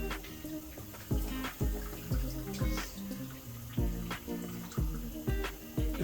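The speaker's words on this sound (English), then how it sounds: "I just float it around here in the water" Water sloshes and splashes in a rhythmic series of close bursts as a Langmuir Crossfire Pro plasma table's water tray is stirred during cleaning, with no talking.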